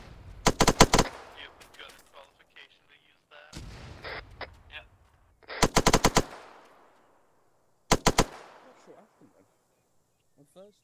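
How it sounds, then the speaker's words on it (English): Video game machine gun fire comes in three separate loud bursts of rapid shots, each a dense cluster of cracks with quieter gaps and lingering tail between them, close and dominant. "I'm gonna pepper it with the MG."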